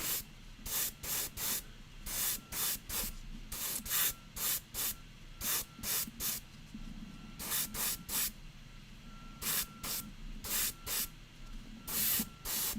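Primer applied through an airbrush onto a miniature model, heard as a series of short sharp hissing bursts in quick irregular pulses, close and fairly quiet, with no voices.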